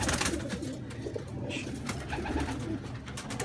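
Pigeons coo softly and repeatedly amid rustling and a busy low background, several birds close by.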